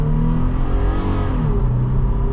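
A 2023 Toyota 4Runner TRD Off Road Premium pulls away hard from a standstill, its engine roaring loud and steady with a rising rumble throughout and the tires briefly spinning.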